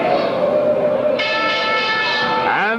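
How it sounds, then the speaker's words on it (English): A wrestling ring bell in a 1965 heavyweight bout rings out loudly, sustained and metallic with long ringing tones, over crowd noise and a commentator's voice. "And the bell sounds its curfew."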